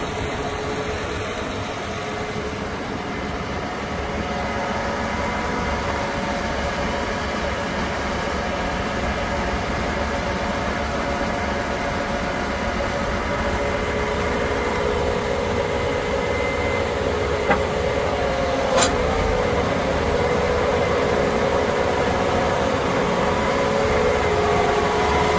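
A 2019 John Deere 8320R tractor engine runs at a steady, loud drone with an even hum for the whole stretch, with no voices over it.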